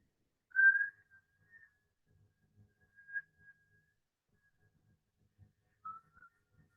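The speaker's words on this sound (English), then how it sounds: "you can start whistling from the beginning if you want" Soft, sparse whistling: a few short, faint tones separated by long pauses in an otherwise quiet room.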